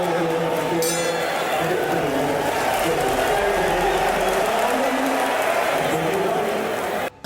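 A boxing crowd cheers and claps as fighters are announced in the ring, a steady roar of applause and voices under a narrator's talking.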